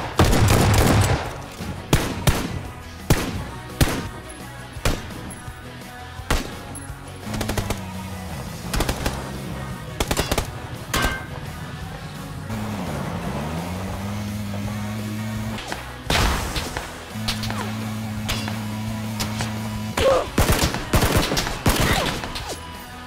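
Bursts of automatic gunfire and single shots in a battle royale shooter, Battlegrounds, some loud and close, others distant, over a steady vehicle-like engine drone in the middle stretch.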